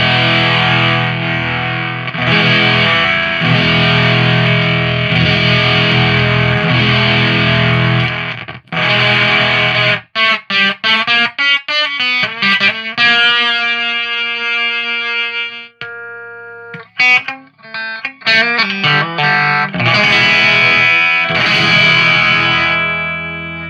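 Electric guitar played through a high-frequency prototype effect pedal, bright and distorted with shimmering sidebands, first sustained chords, then choppy staccato stabs and ringing single notes, loud and close with no talking.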